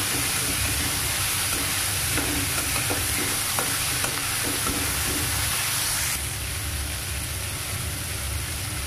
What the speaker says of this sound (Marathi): त्याच्यातच आपल्याला पनीर पण टाकायचं आणि हे चांगलं मिक्स करून घ्यायचं।